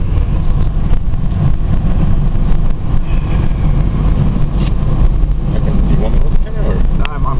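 A 1992 Toyota Supra engine roars loudly and steadily in a close, wind-buffeted recording, with a faint voice in the mix.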